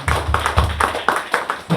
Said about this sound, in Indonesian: Bisa sekali lagi tepuk tangan yang meriah untuk Bang Pablo.